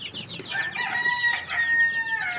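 A native country rooster crows loudly and close, one long drawn-out call with harmonic tones, while hens cluck around it in a backyard flock kept for sale; no talk.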